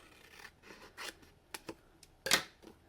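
Scissors snipping through paper for a mini organizing kit project, a series of short, close, quiet cuts with one sharper snip near the end, no talking.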